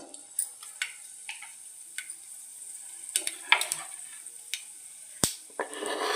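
Mustard seeds crackling in hot oil, with sparse sharp pops and spits over a faint steady hiss, irregular and close, growing busier toward the end, no speech.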